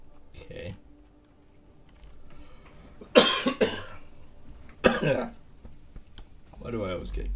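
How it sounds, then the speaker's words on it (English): A person coughs sharply twice, close to the microphone, amid quiet room sounds and a few mumbled words. "Why do I always get cough about there?"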